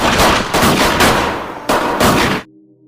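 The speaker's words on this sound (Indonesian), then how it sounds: "polisi pun harus menembak mati Panor di tempat saat itu juga" Police gunfire in a film scene: several loud, close gunshots ring out in quick succession, with echoing tails, before cutting abruptly to near silence.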